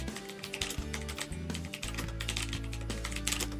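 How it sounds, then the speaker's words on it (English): Rapid, close clicking of keys on a Sades K10 budget mechanical keyboard, a steady flurry of sharp taps with no talking. "I will try to type my name."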